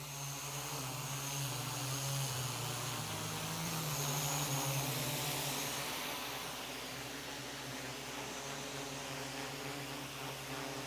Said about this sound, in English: I will use this new capability to position this camera-carrying quad to the appropriate location for filming